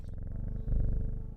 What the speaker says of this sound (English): I don't know if you can hear the purring.